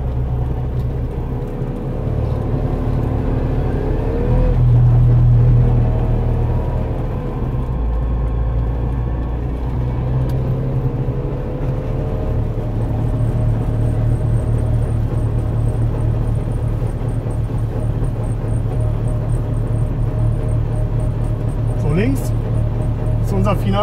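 Trabant 601 car engine droning and rumbling steadily while driving along Wilhelmstraße in Berlin toward the Brandenburg Gate, with someone speaking over the continuous engine noise throughout.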